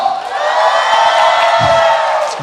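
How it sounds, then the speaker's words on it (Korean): Young people at a Korean church worship service, Holt family love service, shout and cheer together as a loud, sustained crowd roar with whoops rising over it, steady throughout with a few low thumps. "우리 청년들만 소리 질러!"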